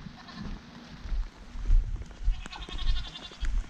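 Goats bleat a few times amid rustling and thumping noises nearby, with uneven bursts of movement in between.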